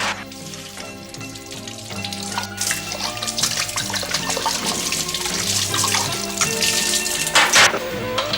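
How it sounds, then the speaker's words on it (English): Tap water running and splashing while lab glassware is washed, a steady rushing flow with clinks and bursts of spray, close and fairly loud without speech. "glassware should be washed first in tap water."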